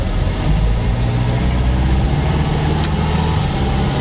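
An all-original Toyota KE10 Corolla engine revs loudly from close range as the car pulls through its gears, a steady rough drone with no voices.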